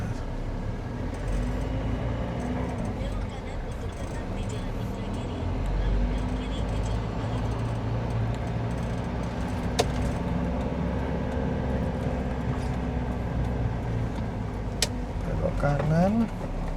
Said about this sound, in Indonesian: Iki lho macet.